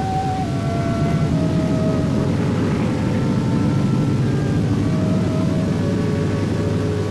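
Airplane engine droning steadily in Antarctica, a continuous loud hum with a few wavering tones rising and falling over it, and no voices.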